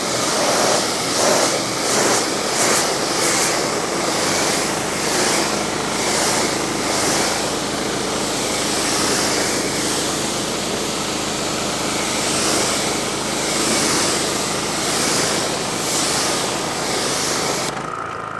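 A broad, steady hiss of water sprays and rinses across a car's paint during mobile detailing, running continuously and fairly loud with gentle surges and no talking.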